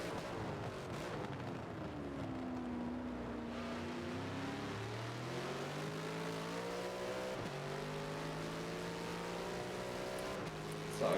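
Big throaty Bentley race car engine in a racing video game at Spa-Francorchamps 24h circuit, revving steadily through the gears with rising and falling pitch and shift drops, loud and continuous with no talk.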